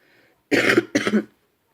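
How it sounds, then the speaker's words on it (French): Two short, sharp coughs in quick succession, close and fairly loud, following a brief faint murmur. "Excusez-moi. Je tousse."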